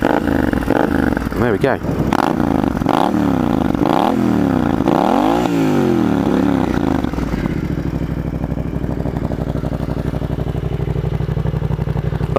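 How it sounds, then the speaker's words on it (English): A 2015 Triumph Scrambler motorcycle starts and settles into a loud, close idle, with rising and falling revs early on before a steady rumble; someone speaks briefly over it. "Like all Triumphs, you have to pull the clutch in to start."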